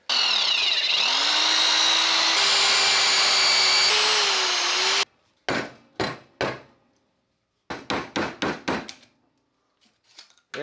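A power drill bores out a pin from a rusty hatchet head, a sustained whining drone for about five seconds, followed by a series of sharp, loud metallic taps and knocks separated by silence.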